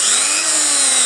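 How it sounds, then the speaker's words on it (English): A cheap Dremel-style rotary tool runs at full speed, producing a steady, loud, high-pitched whine close up that holds unbroken throughout, with no talking. "So I've got my Dremel tool."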